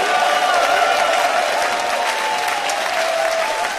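A gospel concert crowd claps in a steady, even wash of applause, loud and continuous throughout, with a faint sustained tone from the stage underneath.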